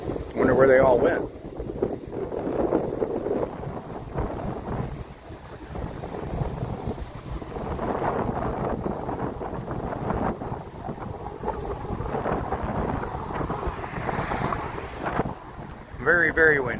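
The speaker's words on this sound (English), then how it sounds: "It is very windy, y'all." Steady, roaring wind buffets the microphone throughout, with a person talking over the gusty rumble outdoors.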